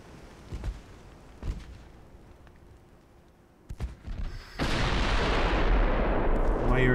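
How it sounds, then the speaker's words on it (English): Naval guns firing in the warship battle game Ultimate Admiral Dreadnoughts give a few dull distant booms early on, then a loud sustained roaring blast rumbles on through the end; a voice speaks briefly over it. "Firing 2 guns."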